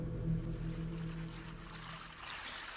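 Oozing, dripping water sounds from video game gameplay footage, a low murky trickle and flowing drip over a steady rumbling hum, faint and continuous throughout.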